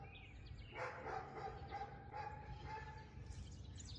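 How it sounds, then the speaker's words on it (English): A dog barks in short repeated bursts over a steady background hum, fairly close by, with no talking. "Max barks constantly. You can hear him, I am sure."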